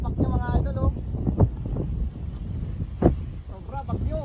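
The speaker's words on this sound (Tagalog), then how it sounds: "Grabe yung hangin." Very strong typhoon wind buffeting a microphone outdoors, loud gusty roar with thumps, while someone talks excitedly over it.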